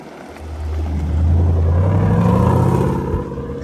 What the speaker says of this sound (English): You can hear that amazing sound from those Miltech exhausts.